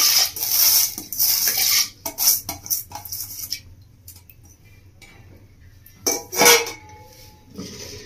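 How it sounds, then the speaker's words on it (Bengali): Washed whole urad dal and water go into a pressure cooker with close clinks and clatters of metal pots and utensils, arriving in bursts separated by quiet gaps. "তো ডালটা দিয়ে দিচ্ছি কুকারের মধ্যে"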